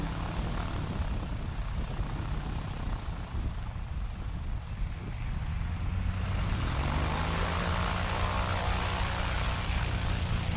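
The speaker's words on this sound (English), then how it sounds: "it's a 1963 Cessna 205 from Gauss, Texas, Brandon Korn." A 1963 Cessna 205 propeller airplane at a STOL competition drones steadily and loudly throughout, its engine tone shifting after the midpoint as the aircraft passes, with a faint announcer voice beneath.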